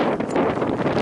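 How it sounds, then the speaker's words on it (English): Wind buffets the microphone outdoors at a grade cricket match, a loud, continuous rushing roar with no other sounds standing out. "The wind is blowing just as the Weather Bureau said"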